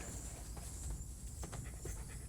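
A dog pants steadily and close, with quick rhythmic breaths over a low, continuous background rumble.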